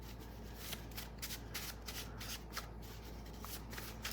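Tarot cards shuffled by hand in a continuous, close, rustling riffle with soft repeated flutters throughout, and no voice.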